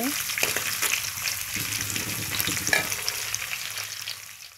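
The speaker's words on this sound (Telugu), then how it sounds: "తర్వాత ఆనియన్స్ వేసుకున్నాను ఇది గోల్డెన్ బ్రౌన్ కలర్ వచ్చేంత వరకు ఫ్రై చేసుకోవాలి ఆనియన్స్" Chopped onions sizzle and fry in hot oil in a pan while being stirred, a steady close crackle with occasional scraping, cooking toward golden brown for tomato egg rice.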